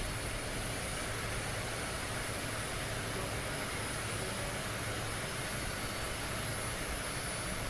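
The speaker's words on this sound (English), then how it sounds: "it looks like Trump is about to come get out of the plane" A steady, broadband roar from a parked airplane's jet engine fills the scene, constant and fairly loud with a faint high whine on top and no voices.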